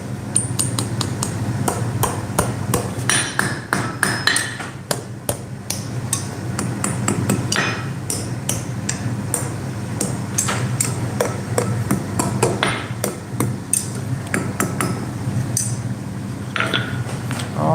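A hammer rings sharply on hot steel while a serpent loop is forged, delivering irregular bursts of close, metallic blows with brief pauses between the strikes.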